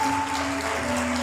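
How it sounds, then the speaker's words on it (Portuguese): Church congregation clapping loudly together during a Portuguese-language worship service, a steady wash of applause with a sustained tone from instruments or a held voice underneath. "Você pode aplaudir o Senhor bem forte."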